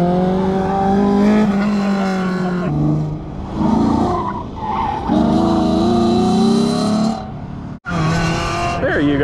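A tuned Mazda Miata racing on a track, engine revving high and shifting through gears with tires squealing in corners, loud and close, with a brief cut before the engine resumes.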